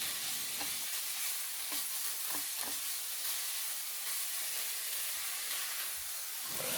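Pork belly and pickled mustard greens stir-fry in a hot pan with a Thai garlic, coriander-root and pepper paste, making a loud, continuous close hiss with a few scraping stirs and no talking.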